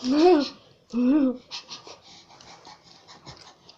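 A person imitates a dog with two voiced, whining yelps, followed by quick panting breaths, close to the listener, while tasting Bean Boozled jelly beans.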